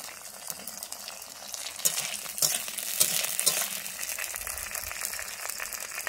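Sliced onions tumble into hot oil for restaurant-style chilli chicken, crackling and sizzling steadily while being stirred, with a few sharper spatters and scraping in the middle.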